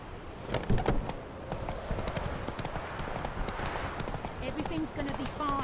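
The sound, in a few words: horse galloping in video game The Witcher 3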